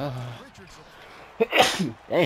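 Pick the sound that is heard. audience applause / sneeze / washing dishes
sneeze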